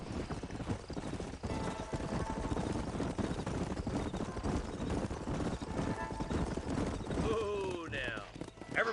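Hooves of horses ridden by a group in Red Dead Redemption clop steadily and loudly throughout, with a snort or whinny near the end under game music and sparse talk.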